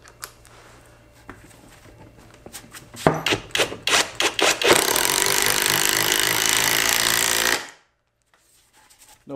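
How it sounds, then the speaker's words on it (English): A Greenworks impact driver drives lag bolts into a doubled 2x4, with quick rattling hammer bursts that build into several seconds of loud, continuous impacting before stopping abruptly. "We're going to go ahead and drive a few different size lag bolts into this doubled up 2x4"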